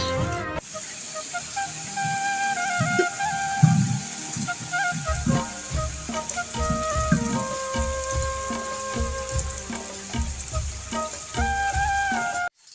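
Heavy rain pours in a hill village, a steady dense hiss running throughout with some scattered knocks and a brief tone over it, loud and close.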